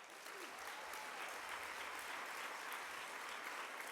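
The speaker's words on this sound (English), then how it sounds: "Give yourselves a round of applause" A conference audience at a college-access gathering bursts into sustained applause, dense and even from start to finish, a broad wash of many hands clapping at once.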